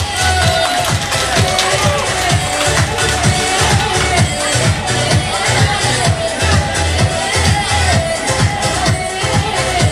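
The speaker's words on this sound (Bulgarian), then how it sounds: "Да изпратим 80 претендентки с бурни аплодисменти!" An audience at a Bulgarian beauty pageant applauds the contestants with sustained, dense clapping, and crowd noise and cheering swell under the applause.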